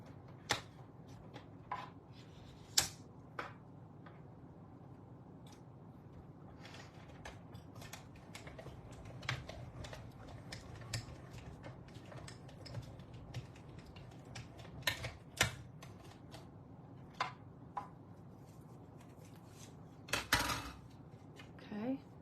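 Paper pieces for card making are cut out: intermittent snips and sharp clicks spread through a long stretch over a low background, with a person speaking at times.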